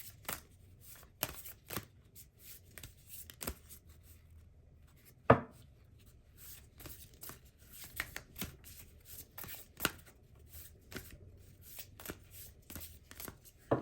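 Tarot cards being shuffled by hand make repeated crisp riffling slaps and soft rubbing at an irregular rhythm, close and fairly quiet, with one sharper louder snap partway through and no talking.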